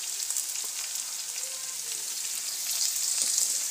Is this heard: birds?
no